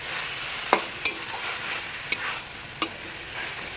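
Chicken fries with ginger-garlic paste in a pan, a steady close sizzle broken by several sharp clacks of the spoon as it is stirred, no voices.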